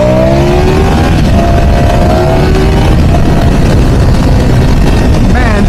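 A 2026 Ducati Panigale V4 Lamborghini superbike on a street exhaust, heard as a loud, steady engine roar with rising revving tones on a continuous ride.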